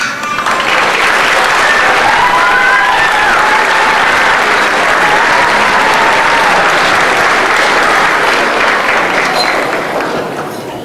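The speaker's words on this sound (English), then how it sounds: "Let's give another round of applause." An audience applauds steadily and loudly after a children's kindergarten-through-second-grade school concert, continuous clapping from a large crowd filling the room for about eleven seconds.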